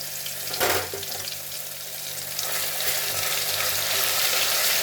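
Garlic paste frying in hot mustard oil with cumin seeds, a steady close sizzle with a sharp burst as the paste hits the pan, then a continuous crackle that swells slightly toward the end.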